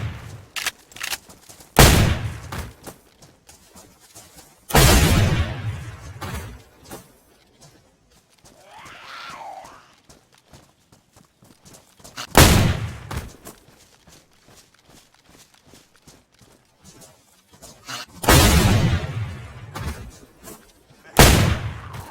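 Shotgun blasts in the DayZ video game, about seven loud, booming shots spaced irregularly several seconds apart, with faint footsteps and quiet ambience between them.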